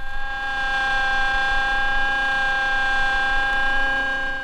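A Vickers hydraulic pump runs at 1800 RPM and 1500 PSI, a steady loud mechanical whine with strong sustained tonal hum and no pauses or talk.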